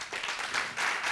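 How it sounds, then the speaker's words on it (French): An audience applauds at the close of a conference panel, a steady wash of clapping from many hands that swells slightly toward the end. "On va les applaudir."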